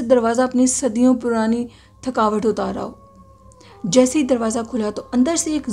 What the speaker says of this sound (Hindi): वो एक बिल्ली की आवाज़ थी